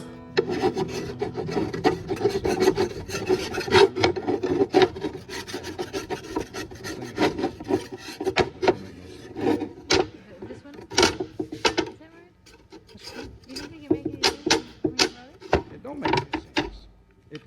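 Excess body filler is scraped off a truck cab corner with repeated rasping strokes, close and loud, in an uneven rhythm of scrapes and rubs with brief pauses.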